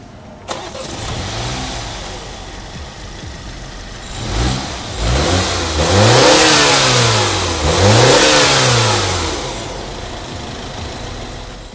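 A Mini Cooper S Countryman facelift engine starts with a sharp crank, then settles into a fast idle and is revved twice in loud rising and falling sweeps before easing back, with no talk.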